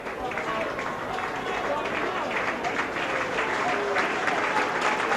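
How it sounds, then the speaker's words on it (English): A crowd of Warrington rugby league supporters applauds steadily as a player is substituted off, a dense, sustained wash of clapping heard from within the stands. "So Les Boyd getting a good round of applause from the Warrington supporters in the crowd."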